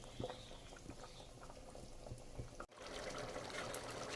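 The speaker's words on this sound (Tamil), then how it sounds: "இப்போ வந்து கிரேவி கொதிக்குது" Mutton sukka gravy bubbles in a pan, a faint, steady simmering texture with small pops and a brief dip before the boiling noise resumes.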